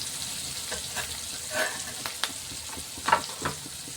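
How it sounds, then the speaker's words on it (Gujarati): Tomatoes and urad dal frying in a pan while being stirred: a steady sizzle with a few louder scrapes and clacks of the spoon, close and with no talking. "હવે એને થોડીક વાર આપણે હલાવી લઈશું, મસ્ત ટમેટા ચડી જાય।"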